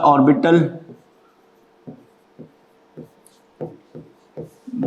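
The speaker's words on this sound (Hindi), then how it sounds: "लिखता हूं इसको मैं" Chalk or marker taps and strokes on a board as physics notes are written during a class lecture, short separate bursts at an uneven pace after a brief stretch of talk, close and moderately loud.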